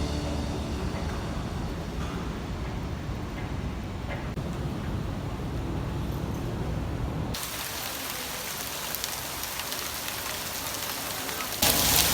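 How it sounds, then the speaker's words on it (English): Rain falls outside the National Mosque in Kuala Lumpur as a steady, dense hiss that grows brighter and heavier partway through. "it started raining"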